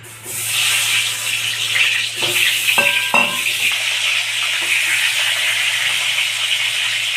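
Pointed gourd (potol) rubbed with salt and turmeric, slit, then dropped into hot oil, setting off a steady close sizzle with a few brief clatters as it goes in.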